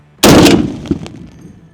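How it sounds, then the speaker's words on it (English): A single booming shot from a .50 caliber AK-50 rifle fired at a car, loud and close, followed by a short echo and a faint impact thud from downrange. "shooting a fucking car with a 50 cal"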